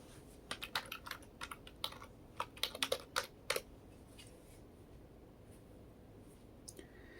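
Typing on a computer keyboard: a quiet, close burst of quick irregular key clicks for about three seconds, then near silence with a couple of last taps, no voices.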